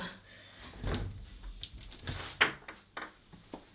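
Wardrobe cupboard doors in a home art studio are handled with soft wooden bumps and thuds, one sharper knock and light rattles, close by, with brief quiet talk in between.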